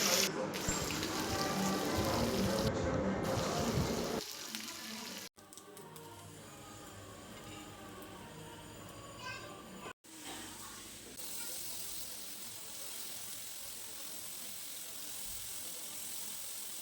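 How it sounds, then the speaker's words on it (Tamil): Prawns and anchovies fry in hot oil with a dense, rain-like crackling hiss, loud for the first few seconds and then softer and steadier, with a faint voice in the background. "நம்ம ஃப்ரை பண்ணுறதுக்கு ரெடியாக வச்சுருந்த இறாலையும் அதுக்கப்புறம் நெத்திலி மீனையும் நம்ம ஃப்ரை பண்ணி எடுத்துடலாம்"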